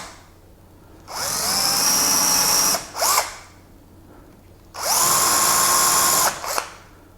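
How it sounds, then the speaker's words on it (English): A power drill countersinks a screw hole for a removable balcony handrail: two loud, close bursts of steady whirring, each about two seconds long and ending with a brief extra rev as the bit winds down, with no talking. "Now I'm going to put a countersink on it so that the screw head won't interfere with the handrail."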